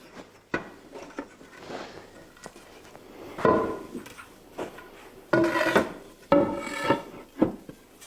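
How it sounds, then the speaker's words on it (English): Wooden barrel staves are handled and fitted together by a cooper, giving scattered knocks, thumps and scraping rubs of wood on wood, some sharp and louder, with quiet gaps between. "The cooper assembles the barrel, alternating staves of different sizes, wide and narrow, placed in such a way that they fit perfectly."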